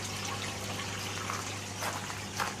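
Water trickles steadily in an aquaponics fish tank with a swirl filter and goldfish, a soft continuous wash over a low steady pump hum, close and unbroken, with no voices.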